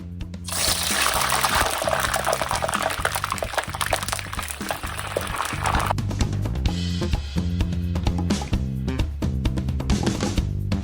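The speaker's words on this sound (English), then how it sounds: "So now we're gonna start deep frying our eggplant." Oil hisses and crackles steadily as eggplant deep-fries, partly buried under loud rhythmic background music that continues throughout.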